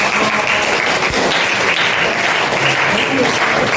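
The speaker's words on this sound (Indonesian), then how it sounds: "Banyak kita tepuk tangan dulu tuh." Students in an eleventh-grade history class at an Indonesian Islamic high school clap together after a presentation, a dense, steady burst of applause filling the room for a few seconds.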